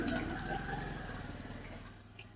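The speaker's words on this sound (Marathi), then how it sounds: "बघा आता एक मोटरसायकल गेली" A motorcycle engine hums past and fades away over a couple of seconds in Kothrud, Pune, a low droning sound receding into the distance.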